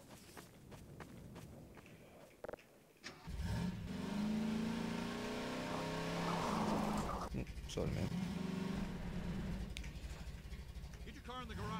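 A car driving in Half-Life 2, an engine revving up into a steady loud drone with tonal whine that holds for several seconds, preceded by footsteps and a brief voice.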